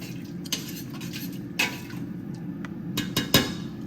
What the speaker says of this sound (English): I'm just gonna go ahead and stir this up like this.